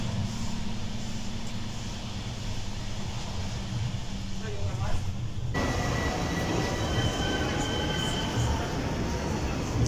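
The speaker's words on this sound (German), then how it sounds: "War auf jeden Fall ein ICE." Steady rumble and rolling wheel noise inside a German ICE high-speed train in motion, loud and continuous throughout with a brief shift in tone midway.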